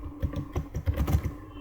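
Rapid, close clicking of fingers typing a short word on a computer keyboard, a quick irregular burst of keystrokes alone with no talk.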